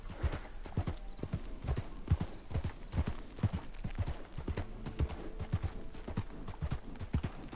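A mare's hooves clip-clop steadily along a mountain trail in a PS4 video game, a continuous, moderately close trot of hoofbeats with no talk over it.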